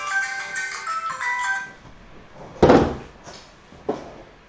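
A mobile phone ringtone plays a bright melodic pattern for about two seconds and then stops, followed by a couple of sharp thuds like a door or cupboard closing nearby.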